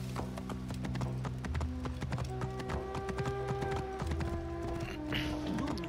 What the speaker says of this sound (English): Where's my horse? Here it is.